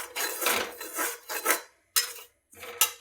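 Dry semolina being roasted in a pan for upma, stirred and scraped in rough rasping bursts with short silent gaps between strokes, close and fairly quiet with no talking.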